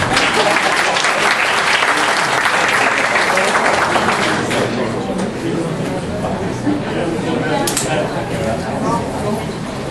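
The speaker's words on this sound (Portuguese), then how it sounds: "Obrigado pelas palmas também, gente." Audience applause at a law school lecture evening, a dense, loud wash of clapping filling the room, thinning slightly midway with murmured voices underneath.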